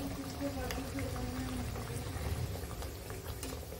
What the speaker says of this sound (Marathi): अशा प्रकारे अगदी मीडियम आचेवर तळायचे आहेत आपल्याला.